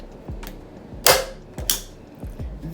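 A staple gun fires into fabric stretched over a wooden canvas frame, giving four or five sharp clacks at irregular intervals, two of them louder and crisper, close by with no talk.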